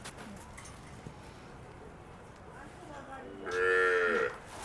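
Cattle on a farm at milking time, with one cow letting out a single close, loud moo near the end over quiet barnyard background.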